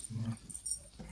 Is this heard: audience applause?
no